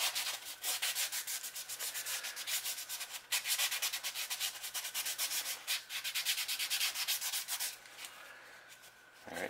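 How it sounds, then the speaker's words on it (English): Light sandpaper rubs back and forth over a fishing lure body, a steady close scratchy sanding in quick repeated strokes that runs throughout with no talking. "And you go with light sandpaper because I don't want to sand off the detail on the body."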